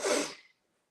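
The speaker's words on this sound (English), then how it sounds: "bit of sneezing and coughing tonight" A single sharp sneeze from a man who is ill, close and loud, then silence.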